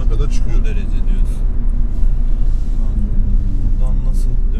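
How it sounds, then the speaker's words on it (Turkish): A Renault Symbol 1.5 dCi 90 hp diesel car pulls steadily in second gear, its engine droning under a low road rumble from inside the cabin while someone talks over it. "Devri zorladığı zaman ikinci vitesi 90'a kadar çıkıyor."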